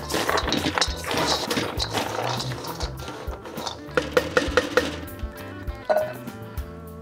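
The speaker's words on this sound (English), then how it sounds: "I like to use a spatula to kind of mix them together. Just toss them around till they mix real well" A spatula scrapes and tosses nuts around a bowl, making irregular clinks and knocks that grow sharper and more percussive toward the end, close and fairly quiet.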